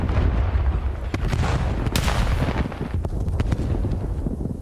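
Grenade explosions in a Call of Duty esports match, a dense run of booming blasts and rumbling impacts with sharp cracks layered over one another throughout.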